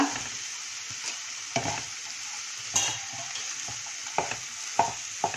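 Puffed rice tossed and stirred in a bowl with black salt, powdered sugar and lemon juice, giving a dry rustling crackle with intermittent scrapes and taps close by.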